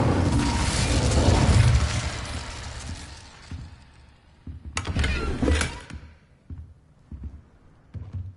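Incendio fire spell cast in Hogwarts Legacy, a loud roaring whoosh of flame that fades out, followed by a second sharp burst and scattered thuds and impacts.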